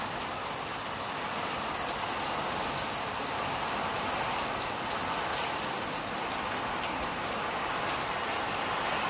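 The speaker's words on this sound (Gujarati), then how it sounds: "બહુ જ વરસાદ આવે છે, જોરદાર" Heavy monsoon rain pours down with wind in a dense, continuous hiss, loud and unbroken, with no voices.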